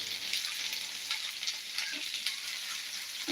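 Okra fries in a pan with small onions, giving a steady, close crackling sizzle throughout with a few soft stirring bumps, and no voices.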